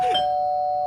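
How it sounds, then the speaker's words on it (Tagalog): A single electronic doorbell chime rings once, a clear sustained tone that lingers and fades, with no voices present. "May nag-doorbell?"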